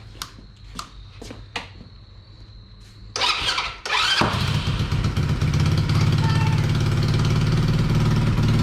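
A Coolster 125cc ATV cranks after a few sharp clicks, then catches and settles into a steady, loud, close idle rumble that runs to the end without speech.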